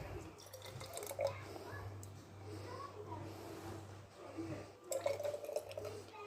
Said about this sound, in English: So tomato sauce is done, and now I'm going to attempt to ladle it into my jars